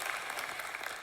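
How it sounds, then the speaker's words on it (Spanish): A church congregation claps in a brief, dense burst of steady applause that fills the space. "merecen un fuerte aplauso"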